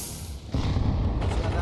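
Gunfire and heavy booming impacts during an esports match, a muted start breaking into a loud, sustained barrage of shots for the rest of the moment.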